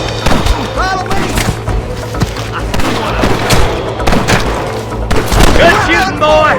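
Repeated gunshots crack through a Red Dead Redemption video game firefight, loud and close, mixed with thumps and impacts, with voices shouting over the shooting.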